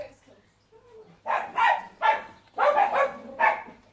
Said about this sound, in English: Dog's going nuts here.